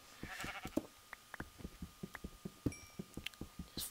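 Sheep in the video game Minecraft bleat in a quick run of short, soft calls, repeated irregularly and fairly faint, with no talk over them.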